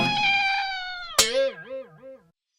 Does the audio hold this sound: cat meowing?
yes